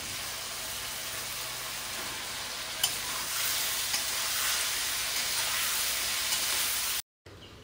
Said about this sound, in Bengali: তো এবারে ভালো করে হলুদ লবণ দিয়ে ভেজে নেব।